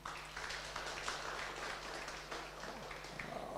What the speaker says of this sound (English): Please give applause to Dr. Intan.